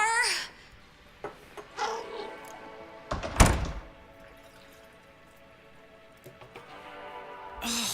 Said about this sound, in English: I'm closing my door.